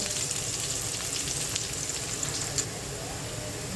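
Ginger, garlic and cumin fry in hot oil for a soybean and potato curry, making a continuous close sizzle that crackles lightly throughout, with no voices.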